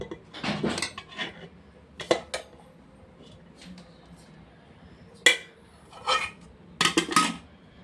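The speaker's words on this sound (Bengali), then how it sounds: "তার আগে আমি ভাতটা বেড়ে নিই। খুব গরম ভাতটা, একদম গরম গরম ভাত।" Hot rice being served onto a plate, heard as a series of separate clinks and scrapes of a spoon against dishes, close by with quiet pauses between, and no talking.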